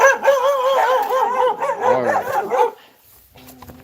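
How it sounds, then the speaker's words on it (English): Several dogs near their makeshift greenhouse-style dog house on a storm-hit homestead yip, whine and bark excitedly in a quick wavering chorus, close and loud, before a brief spoken phrase and quieter background. "And so these are my dogs."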